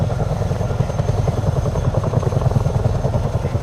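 A video game helicopter's rotor chops loudly and steadily in a fast, even pulse with a constant engine drone and no pauses.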